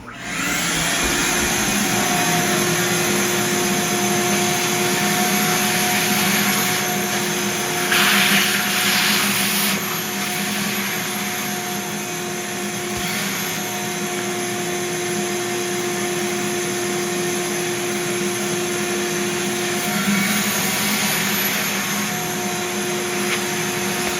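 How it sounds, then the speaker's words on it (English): A vacuum is run over a Motorola Edge 2021 phone during screen repair, giving a loud, continuous whirring suction drone that holds steady for over twenty seconds, with no talking. "I'm gonna go ahead and vacuum"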